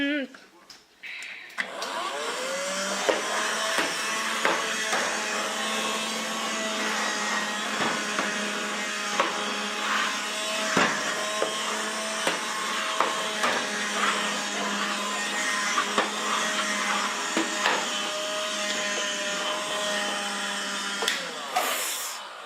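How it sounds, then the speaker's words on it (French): A small handheld vacuum whirs steadily and loudly for a long stretch, with clicks and handling noises scattered throughout. "je viens de mettre un petit coup d'aspirateur de table"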